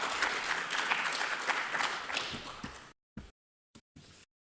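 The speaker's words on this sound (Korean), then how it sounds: "손 한번 흔들어 주시고 박수 한번 부탁드리겠습니다" An audience at an international forum in Washington, D.C. gives a burst of applause for about three seconds, then the clapping cuts off abruptly into near silence with a few brief scattered fragments.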